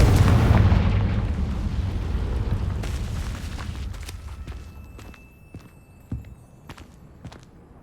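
Confringo fire spell blast in Hogwarts Legacy, a heavy booming explosion that rumbles and decays over several seconds, followed by scattered sharp clicks and footstep-like taps with no speech.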